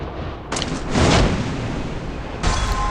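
Gunfire and explosive booms in the mobile shooting game Free Fire, with loud, sharp blasts near the start, a heavy boom around the middle and another crack near the end.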